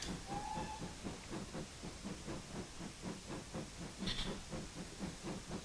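A BR 9F heavy freight steam locomotive works hard with a train, giving a steady rhythmic chuff under broad hissing steam, with a brief whistle-like tone near the start and a sharper burst of hiss later.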